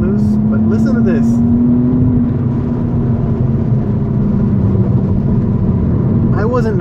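A DINAN-tuned BMW M235i engine accelerating hard as a steady loud drone from inside the car, with pitch holding then slowly dropping, and brief voices near the start and end.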